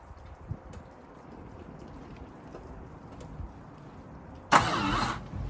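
A Ford Fiesta RS Turbo under restoration, its fuel pump just primed, makes a start attempt: quiet faint background for several seconds, then a sudden loud burst of engine cranking near the end.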